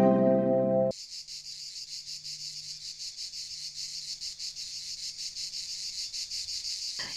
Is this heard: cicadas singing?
yes